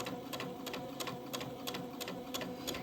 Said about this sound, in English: we will just go along here sewing the first of the pin tucks.